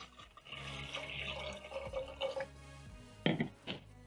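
Water poured into a saucepan for lemon uji, a steady trickling pour with rising tone for about two and a half seconds, followed by a couple of louder knocks and splashes nearby.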